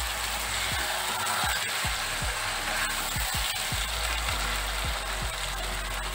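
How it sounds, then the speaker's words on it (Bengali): Coriander chicken sautéing in oil with sugar added, a continuous dense sizzle close up, broken by a regular series of spatula knocks and scrapes against the pan, with no voices over it. "চিনি দিচ্ছি, এটা কষিয়ে নিয়েছি, দেখুন সাইড থেকে তেলে ছেড়ে দিয়েছে।"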